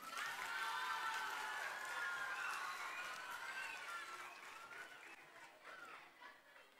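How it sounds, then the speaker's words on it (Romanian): An audience at a children's reading award ceremony claps together, a dense burst of applause that starts strong and slowly thins toward the end. "Aplauze, vă rog!"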